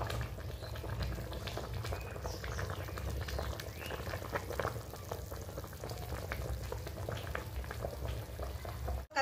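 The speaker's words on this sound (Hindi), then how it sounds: "इसे उबालेंगे ताकि मछली जो है रस पी के नरम सॉफ्ट हो जाए" Katla fish curry boiling in a pot on the stove: a steady, close bubbling and simmering hiss that holds evenly throughout, with no voices, ending in a brief clatter.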